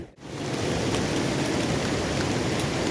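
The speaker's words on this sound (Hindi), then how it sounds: "बारिश गिर रहा है बारिश बारिश गिर रहा है" Steady rain falls outdoors on a nature trail, a dense, even hiss that stays loud and close throughout after a brief dip at the very start.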